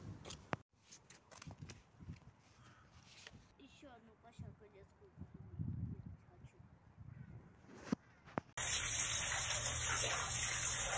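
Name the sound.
sewage water gushing in basement bomb shelter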